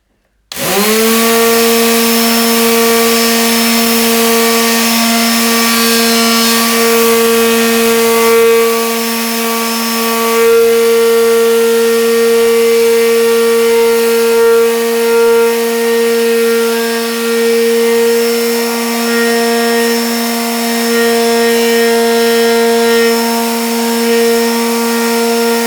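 A loud, continuous electric sander motor whine sanding wood, with a steady pitch for the whole stretch, holding an even drone with slight variations as it works.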